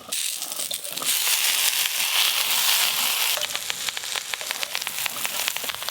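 Washed, chopped gourd leaves drop into a pan of frying potato and eggplant, setting off a loud surge of hissing sizzle that settles into steady crackling spatter.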